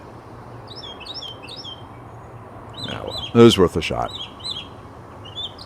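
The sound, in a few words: bird chirping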